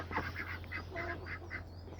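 Ducks near a chicken coop give a quick run of about six or seven nasal quacks, close and moderately loud, over a low steady background hum.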